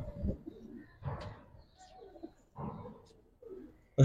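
Giribaz pigeon coos in short, separated bursts, about four low rolling calls close by, with brief quiet gaps and a sharp knock at the end.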